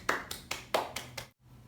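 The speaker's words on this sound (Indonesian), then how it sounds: "Beri tepuk tangan dong untuk Fatih." A classroom claps briefly for a student, about six sharp, fairly sparse claps in quick succession before stopping abruptly.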